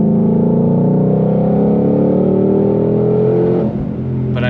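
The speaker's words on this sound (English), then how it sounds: "let the supercharger be heard. She's working, let her sing." Supercharged Ford Shelby GT500 Mustang (S550) engine revving loudly and steadily up close, a sustained rising whine with strong harmonics that dips and settles briefly near the end.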